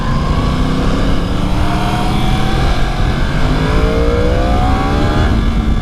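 A Yamaha R1 crossplane four-cylinder sport motorcycle engine revs loud and close for several seconds, its tone rising and falling through a steady, dense roar with no talking.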